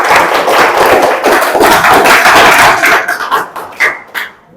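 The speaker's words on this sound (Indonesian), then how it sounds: "Aplaus" Classroom applause from a group of high school students, loud and dense clapping that holds steady for a few seconds, then thins into scattered, fading claps.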